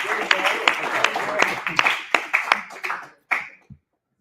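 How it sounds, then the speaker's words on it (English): A university startup class applauds a team with a scattered round of clapping and cheering voices. The individual claps are distinct and moderately loud, then thin out and stop. "So give another round of applause."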